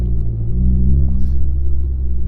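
Manual stick shift car pulling away on a hill, a loud, close low engine rumble that rises slightly as it takes up drive, then settles into a steady drone.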